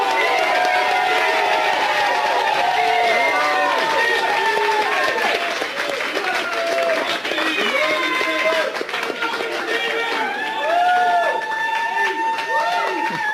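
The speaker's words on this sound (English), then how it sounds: "let's get a big round of applause for our runner-up, Stephen Warburton." A crowd at a poker tournament at Casino Barcelona applauds and cheers the runner-up. The clapping stays dense and steady throughout, with excited voices and chatter mixed in.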